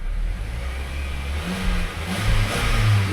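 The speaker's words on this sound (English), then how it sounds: "Boy, for an old Hyundai, she sounds pretty good." An old 2008 Hyundai Sonata engine runs steadily with a low rumble, rising briefly as if revved, close by with no talking.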